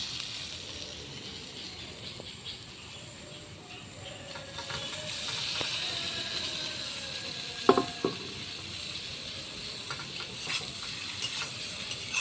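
Pre-fried potatoes and pointed gourd go into a spice paste cooked in oil for a hotel-style prawn curry, with a soft steady sizzle and a few sharp clatters and stirs partway through.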